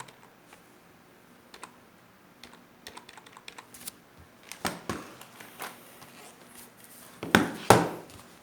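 Computer keyboard keys pressed in scattered taps on a computer with a failing SSD, keyboard unresponsive, quiet at first, then a louder cluster of clicks near the end.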